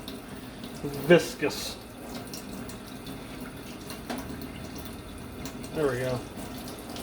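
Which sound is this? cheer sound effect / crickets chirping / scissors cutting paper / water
water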